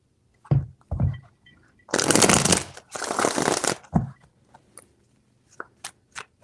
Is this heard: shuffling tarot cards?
yes